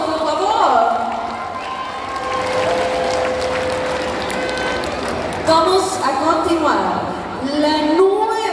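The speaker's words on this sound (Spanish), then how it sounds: "Un paso enfrente y fuerte los aplausos, por favor." An audience applauds the newly announced Señorita Deportes at a San Marcos Huista pageant, a steady wash of clapping and crowd noise throughout, with an announcer's voice and cheering layered over it.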